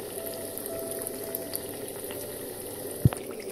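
Banana oats fritters fry in a pan of hot oil, a steady close sizzling and bubbling hiss with a sharp clink of a utensil near the end.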